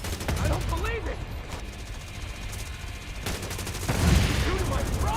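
Gunfire in The Division Resurgence, a third-person shooter game, comes as bursts of rapid automatic shots that rise in intensity toward the end, with voices calling out over the shooting.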